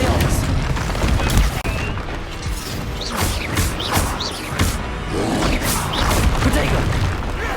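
Spell impacts and blasts from Confringo in the video game Hogwarts Legacy, a busy run of booms and crashes layered with other combat spell effects and shouted incantations throughout.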